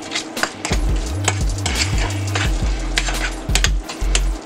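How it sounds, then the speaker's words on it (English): Salmon cake mixture with pink Himalayan salt and Worcestershire sauce being stirred in a bowl, a close steady run of scraping and clinking with soft wet churning over about four seconds, no voices. "We're gonna mix this all up here."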